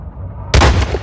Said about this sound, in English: You wanna see my cannons?